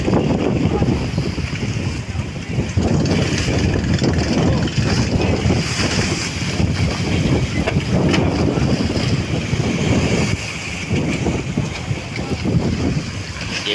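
Strong wind at sea buffets the microphone from a boat, a constant loud roar with rushing water and waves beneath it throughout.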